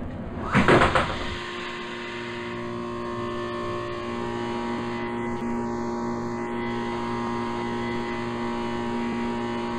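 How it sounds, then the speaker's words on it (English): Doors of a Thyssen lift slide shut with a brief close rumble near the start, followed by a steady mechanical hum from the elevator. "Doors closing."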